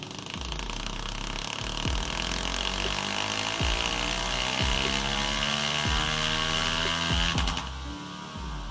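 A Honda CRF450L dirt bike engine runs on a dyno, a loud, continuous roar revving up and down with repeated sharp pops from the exhaust.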